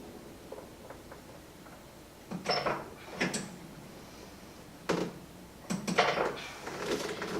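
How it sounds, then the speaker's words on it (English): A Pilates reformer carriage pushed out and pulled back in, giving soft mechanical rolling and clunking bursts in a loose rhythm, fairly quiet and close, with no talk. "you're pushing down to push the carriage out, and you're pushing down to pull it in"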